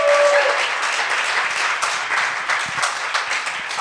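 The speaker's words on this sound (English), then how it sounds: "please a big round of applause for Greg" Audience applause for a speaker named Greg at a talk on hiring generations, a broad steady wash of clapping from a crowd that continues at an even level for a few seconds with no voices.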